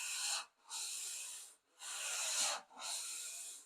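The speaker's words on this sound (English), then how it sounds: "you hear it scraping it against the grain" Sheet of 150-grit sandpaper scraped across wood against the grain along a vise top: four long, close, rasping strokes separated by brief pauses, with no voices.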